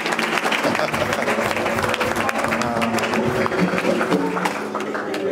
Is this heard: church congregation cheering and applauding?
yes